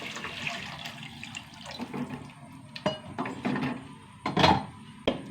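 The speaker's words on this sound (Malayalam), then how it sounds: "എനിക്ക് വെള്ളം ഒഴിച്ച് കൊടുക്കാം കേട്ടോ." Water poured into a cooking pot of sautéed vegetables seasoned with turmeric and salt, a close splashing pour with gurgles and a few knocks of the vessel, no talking.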